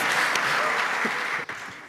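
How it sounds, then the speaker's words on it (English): Sustained applause from a conference audience fills the space, steady and fairly loud, fading slightly toward the end. "I'm clapping for myself."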